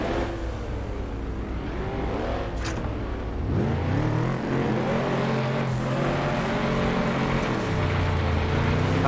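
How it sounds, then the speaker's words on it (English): A race car engine in the FlatOut 2 racing game bangs against its rev limiter at the start of a race. The stuttering, revving drone is loud and continuous, then climbs and holds steady as the car pulls away. "Bouncing out the rev limiter just a little bit, right from the start."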